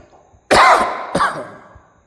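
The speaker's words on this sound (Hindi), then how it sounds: "खांसी हो गया।" Two harsh, throaty coughs from a man during a classroom geography lecture, close and loud, the first longer and the second shorter, with quiet before and after.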